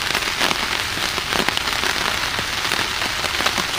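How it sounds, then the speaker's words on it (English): Heavy rain pouring down in woodland at nightfall, a dense, continuous hiss of drops on leaves and ground with scattered sharper patters, steady and close with no voices. "Doesn't seem to be letting up. I think it's going to rain through the night."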